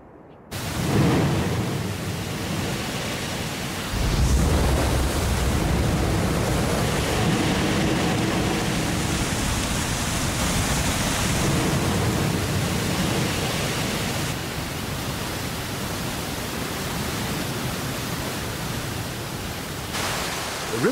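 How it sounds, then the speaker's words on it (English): Rushing water of the Orange River in South Africa, a steady broadband roar that holds loud and constant throughout with no voices. "you can see alongside the waters of this, the Orange River in South Africa"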